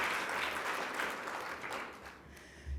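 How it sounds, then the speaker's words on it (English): Indoor audience at a women's week celebration applauding, a dense continuous wash of many hands clapping that stays fairly quiet and distant, fading slightly toward the end. "let's also give Stephen a big hand of applause for the great work he's doing"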